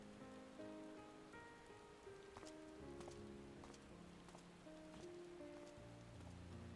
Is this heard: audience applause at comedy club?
no